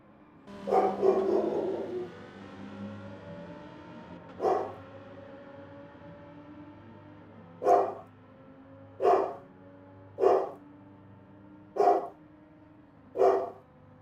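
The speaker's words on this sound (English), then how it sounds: "Coda's barking, probably at the cat." A dog named Coda barks indoors, likely at a cat, starting with a longer bark and then a few spaced single barks that settle into a regular rhythm, fairly close and clear.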